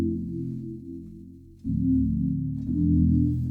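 Warm, low sustained synth pad from the Analog Lab 5 preset City of the Lost, holding one soft chord before shifting to two more swelling chords in slow succession, alone with no voices.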